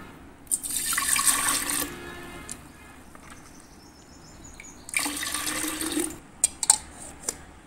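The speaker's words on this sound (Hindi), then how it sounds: "हमारा इमली का शरबत तैयार है और इसे हम जग में डालेंगे।" Tamarind sharbat with ice poured into a jug, making two separate splashing pours of a few seconds each, followed by soft clinks and drips.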